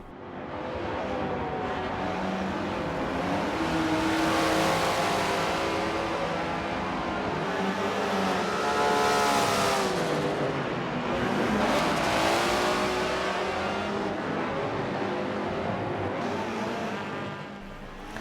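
Video game race car engines, including a Honda Civic, roar and rev continuously in Forza, pitch sweeping up and down as the cars accelerate and pass through traffic, with occasional tire squeals.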